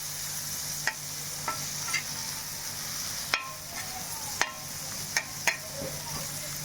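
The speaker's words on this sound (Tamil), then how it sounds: "வெங்காயத்தை நல்லா வதக்கிக்கலாம்" Chopped onion sautés in oil in a clay pot, a soft steady sizzle punctuated by several sharp spoon knocks and scrapes against the pot, close by.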